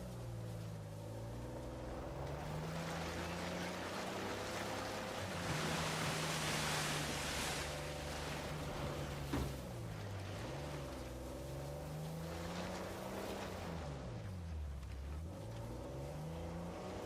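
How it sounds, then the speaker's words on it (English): A waterfall beside a secret cave in Uncharted 4 roars as a steady, dense wash of water noise, with a low tonal drone and shifting music beneath it and no talking. "A secret cave behind a waterfall."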